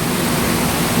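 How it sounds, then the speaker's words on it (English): Waterfall inside the indoor rainforest exhibit at the Cleveland Zoo, a loud, steady broadband rush of falling water filling the space with constant hiss and low rumble, no voices. "there's the waterfall"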